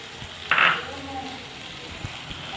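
Green chili paste hitting hot oil in a pan for a masala bhindi (okra) dish, a short bright burst of sizzle followed by a softer, steady frying hiss, with someone talking over it.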